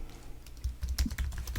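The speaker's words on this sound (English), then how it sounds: "I'll type it in" Fingers type an email address on a computer keyboard, a quick, soft patter of close keystrokes that starts faint and grows busier toward the end.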